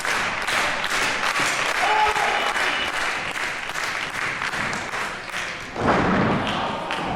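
A wrestler is slammed down onto the ring canvas during a mixed tag-team wrestling match, landing as a heavy thud beneath loud, continuous crowd applause and cheering.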